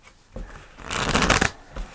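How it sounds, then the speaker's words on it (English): A deck of fairy oracle cards is shuffled by hand in one close riffling burst that builds and then stops, with a soft tap or two afterward. "I'm pulling the fairy cards"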